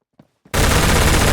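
An SMG in the Roblox game Phantom Forces fires on full auto, a dense loud continuous burst that starts abruptly after two faint clicks.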